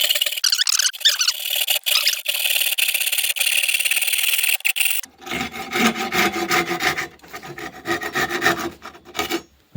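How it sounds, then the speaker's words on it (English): Hand saw cutting through ash wood for a lyre bridge: a steady, close rasping stroke that runs continuously, then turns into choppier, rougher strokes partway through, with no talking. "I'm just going to saw out by hand around the bridge."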